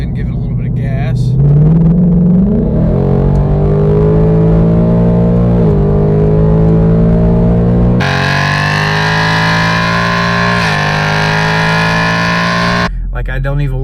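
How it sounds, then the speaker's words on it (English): A Ford Mustang GT with its stock exhaust revs up from idle, the engine note rising and easing in a few swells before a higher, sharper rev near the end, loud and close. "Let's go ahead and give it a little bit of gas."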